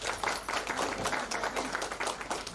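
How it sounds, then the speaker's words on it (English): A crowd at an alumni get-together claps in a round of applause for a girls' football coach, a dense, even patter of many hands sustained throughout. "Can we have a round of applause for him?"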